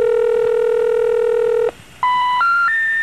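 Telephone touch-tone dialing heard over a 1988 speakerphone: one long steady tone, a short gap, then three quick rising beeps in a row, close and clear, with no voices.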